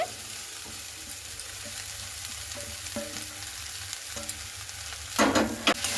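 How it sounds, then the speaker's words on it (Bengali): Grated potatoes fry in a pan while a spatula stirs and scrapes them, a steady soft sizzle punctuated by light rhythmic scraping taps and a louder clatter near the end. "তো দেখুন আলুটাকে কিন্তু খুব ভালো মতো করে এইভাবে মিশিয়ে নিচ্ছি"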